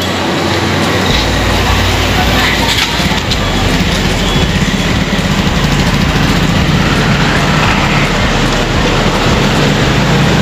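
A motorbike runs steadily at close range, its engine blending into a loud, continuous roar of road and wind noise, with voices talking now and then.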